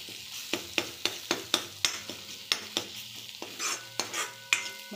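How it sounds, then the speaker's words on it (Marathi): A spoon stirring masala with cooked chickpeas in a pan for chana batata bhaji, sharp scraping strokes in a quick steady rhythm over a faint sizzle, close and alone. "मसाला सगळा मिक्स करून घेऊया"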